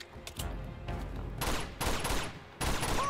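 Several loud bursts of pistol gunfire in the video game Uncharted 2, sharp cracks separated by short gaps, with no talking.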